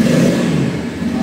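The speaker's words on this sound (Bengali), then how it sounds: "এই হচ্ছে এক্সস্টের সাউন্ড যেটা আপনাদেরকেও সাথে শেয়ার করি" Bajaj Pulsar N250 motorcycle revving in neutral, its exhaust giving a loud, steady, close engine roar that swells slightly and holds through the short stretch, with no talking.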